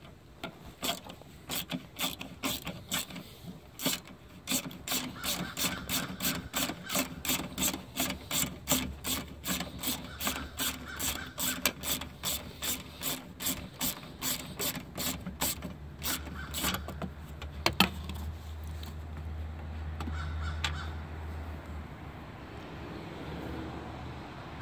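A ratchet clicks in rapid, steady bursts while turning 8 mm valve cover bolts on a Ford Escape 1.6L engine, close and crisp, pausing briefly before a final few clicks.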